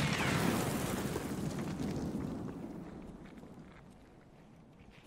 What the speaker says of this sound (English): throwing nades at me.